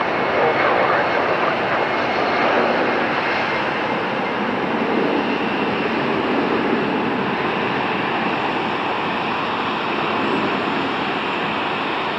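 A Frontier airliner taxis toward runway 1L at Tampa airport, and its loud, steady jet engine roar fills the whole stretch at close range with a broadband rush that barely changes.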